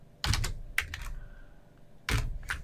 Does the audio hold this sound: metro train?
no